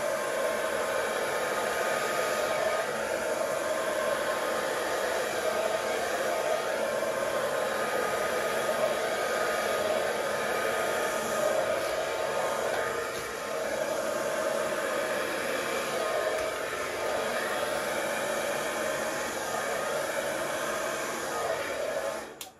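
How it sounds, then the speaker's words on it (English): A hair dryer blows steadily and loudly over an acrylic paint pour on canvas for the whole stretch, a constant breathy whoosh with no pauses. "So I'm going to keep blowing this with the hairdryer."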